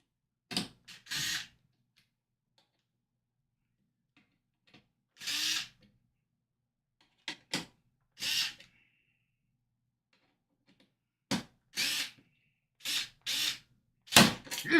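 Handheld power drill in reverse at its lowest torque setting, heard in short separate bursts of whirring, some under a second and some lasting a few seconds, with long silences between.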